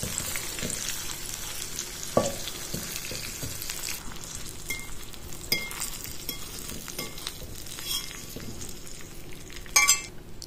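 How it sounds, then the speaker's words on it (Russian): Meat sizzling steadily in a frying pan before it goes into a pot, the crackle close and continuous, with occasional scrapes and clinks from stirring and no voices. "Все еще немножко обжарим и все перекладываем."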